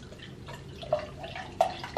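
Westons cider poured from a bottle, a few faint liquid splashes and drips trickling in short bursts, quiet and close with no talking.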